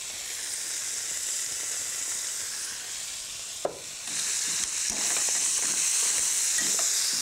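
Garlic sizzling in hot olive oil alongside scallops in a pan: a steady, bright frying hiss throughout, with a sharp clink partway and the sizzle swelling louder afterward, no talking.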